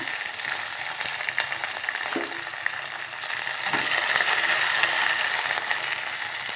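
Curry leaves sizzling in hot oil in a pan of golden-brown fried shallots for a Kerala mango curry, a steady crackling fry with a few scraping stirs, close and continuous.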